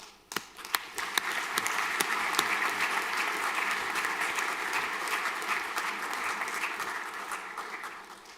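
Hall full of school assembly attendees applauding a year 11 academic prize winner, sharp individual claps swelling into sustained dense applause that slowly tapers.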